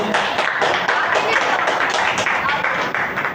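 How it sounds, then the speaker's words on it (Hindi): Students in a lecture classroom applauding a classmate, a dense, continuous patter of many hands clapping together, fairly loud and close, sustained for a few seconds. "चलो फिर जोर से तालियां बजा दें प्लीज उत्कर्ष के लिए वापस से।"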